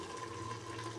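Water is poured steadily into a pot of tamarind vegetable sambar, a continuous close liquid rush with no talk.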